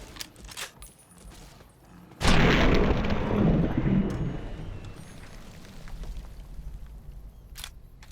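A loud explosion bursts in Fallout: New Vegas as a Deathclaw is blown up, a sudden heavy boom that rolls and decays over several seconds after a few quieter clicks.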